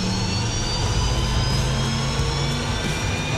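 An L-39 Albatros jet engine idles after starting, a loud, steady turbine whine with high tonal whistles over a constant roar, close and unbroken with no talk.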